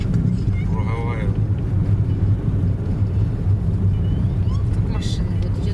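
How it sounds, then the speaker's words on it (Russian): Cars drive around a city roundabout in Minsk, a steady low traffic rumble heard from inside a moving vehicle with wind noise, while people talk. "Машины вот едут."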